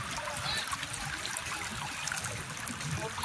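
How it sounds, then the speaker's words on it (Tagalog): Strong river current rushing past a riverside cottage resort in Dingalan, Aurora, a steady broad wash of flowing water heard close, with light trickles and splashes through the whole stretch. "Ang lakas lang talaga ng agos."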